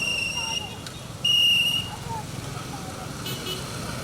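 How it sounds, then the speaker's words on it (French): A security guard's whistle halts traffic on a busy road in Benin, sounding in a few sharp, high blasts, with one long loud blast near the middle, over a steady roar of passing cars and engines. "coup de son sifflet"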